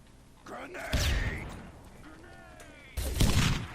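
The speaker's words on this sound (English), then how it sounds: "Rocket shots are not quite connecting here." Rocket launcher blasts in a competitive multiplayer shooter match, two booming impacts roughly two seconds apart, heard under a commentator's steady voice.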